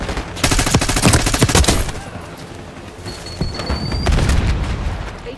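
Rapid automatic gunfire in the Black Ops 6 video game, loud bursts of rattling shots with booming impacts, a dense volley early, a lull, then another heavy burst near the end.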